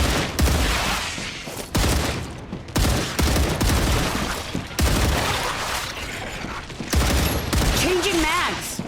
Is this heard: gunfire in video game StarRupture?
yes